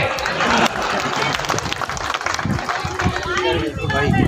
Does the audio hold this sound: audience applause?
yes